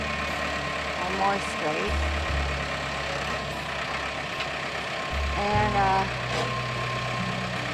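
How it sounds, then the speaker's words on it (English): A tractor engine idles and revs in low, uneven surges while pushing a pole barn post upright, running continuously under a man's speech at moderate distance. "we're just going to try using the tractor to push it up, to push it straight"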